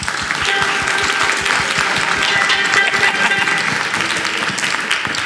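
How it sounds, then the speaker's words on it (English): Audience applause at a fall steel band and percussion concert, welcoming a guest alto saxophone player; steady, dense clapping from a sizable crowd sustained at even loudness throughout. "If we could give him a round of applause."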